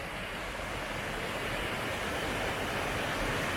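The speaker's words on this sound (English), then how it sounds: "which is a pretty swell waterfall" A waterfall beside a backpacking campsite in Dolly Sods, West Virginia, gives a constant, dense roar. It is loud and unbroken throughout, with no voices.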